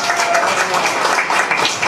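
Applause from party members at a political meeting in Incheon, a steady, dense round of clapping filling the room, fairly loud and unbroken.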